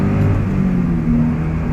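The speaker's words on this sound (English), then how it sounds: "There's a faint rumble on really smooth pavement, but it's barely audible over the engine and wind noise." Subaru BRZ on Falken Azenis RT 615k tires driving on pavement, with a steady engine drone and low road rumble from inside the car, continuous and fairly loud.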